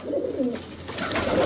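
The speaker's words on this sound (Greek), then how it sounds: "και αυτά εδώ είναι τα περιστέρια του τούμπανου" Pigeons at a pigeon club in Drapetsona give soft, close, throaty coos in a short repeated burst, with no talking.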